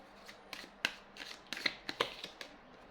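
Tarot cards being shuffled and riffled close up, a quick series of crisp papery flicks and slaps at an uneven rhythm, moderately quiet and heard alone with no talking.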